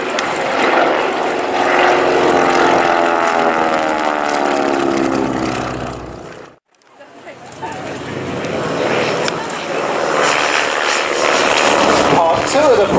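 Vintage aircraft with big round radial engines, Pratt & Whitney types, flying past at the Little Gransden air show in 2012; a loud droning propeller roar swells, briefly drops out, then builds again, with a commentator talking over it.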